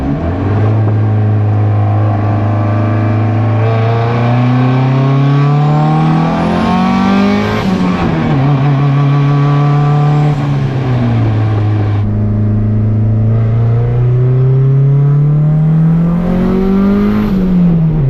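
A built turbocharged single-cam Honda Civic with a GT3076R turbo makes repeated pulls, its engine revving up through the gears in rising, loud tones with drops at each shift.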